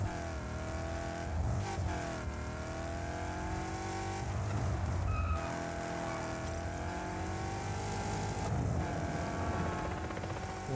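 A car drives in the video game Just Cause 4, its engine droning loudly and continuously with shifting revs and occasional tire squeals, and a helicopter-like whir runs beneath it.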